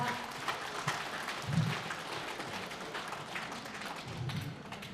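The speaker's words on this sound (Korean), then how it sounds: "За та бүхэн алга ташаад өгөөрэй." An audience claps at the start of a business presentation, a moderate spread of hand claps with a few dull thumps mixed in, continuing steadily throughout with no clear speech.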